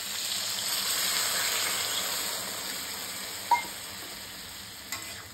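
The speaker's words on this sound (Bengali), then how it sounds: "লো ফ্লেমে আমি ভালো করে এগুলোকে কষিয়ে নিচ্ছি।" Spices and ginger sautéing on a low flame for sukto: a steady, faint hiss of frying with two small knocks of a stirring utensil near the end.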